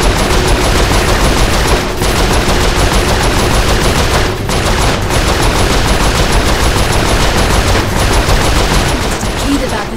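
Relentless rapid gunfire in Saints Row 4, a loud, continuous machine-gun fusillade with short breaks, voices faintly mixed underneath.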